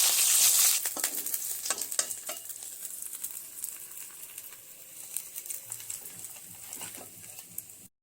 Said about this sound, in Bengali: তেলের মধ্যে দিয়ে দেব মাছটা বেশি কড়া করে ভাজার কোনো দরকার নেই